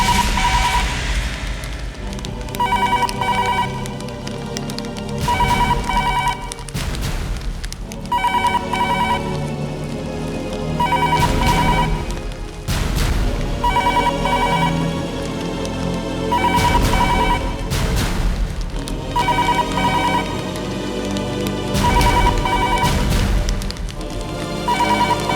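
A telephone rings unanswered in a tense police office, repeated ring bursts in a steady rhythm, each cut by a short gap, loud and continuing over a dramatic music bed.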